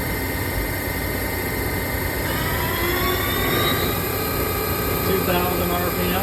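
Kuraki KMB 11 CNC horizontal table-type boring mill with a 4.33-inch spindle and Fanuc control, its spindle running at its 2000 RPM maximum: a loud, steady machine whine with rising tonal lines, continuous throughout with a voice faintly under it.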